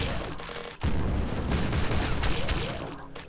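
A Gatling gun fires in the top-down shooter Nuclear Throne, a rapid continuous burst of loud rattling shots that starts abruptly and runs steadily to the end.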